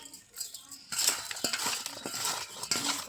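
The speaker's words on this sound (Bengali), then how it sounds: "আলুটা এবার আমি নুন হলুদ মাখিয়ে নেব" Potatoes being tossed and mixed with salt and turmeric by hand in a bowl, giving a steady close run of soft scraping and clinking strokes, quiet at first and then busier and continuous.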